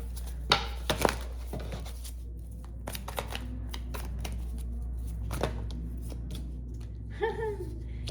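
A tarot deck is shuffled close up, with crisp card riffles and snaps scattered over a low steady hum, ending in a brief vocal sound.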